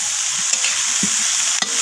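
Shredded cabbage fries and is stirred in a pan with spinach and bottle gourd greens, giving a steady hiss of sizzling with a few clanks of the spoon against the pan.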